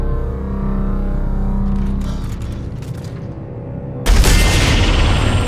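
Gunfire in Dead Space 2 starts as a low mechanical drone with faint rattles, then a sudden loud, harsh blast of shooting bursts in near the end and stays dense and close.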